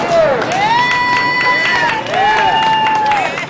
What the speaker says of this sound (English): those waiting in line cheer for the upcoming medical attention